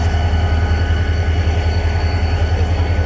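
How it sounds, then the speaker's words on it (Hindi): At Jhimpir station the Shah Latif Express train rolls in reverse: a constant deep engine drone pulses evenly under a thin background hiss, near and unbroken, with no one speaking. "तो अभी ये रिवर्स हो रही है गाड़ी"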